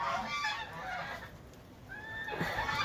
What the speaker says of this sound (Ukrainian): О, гуси почули мій голос уже. Кричать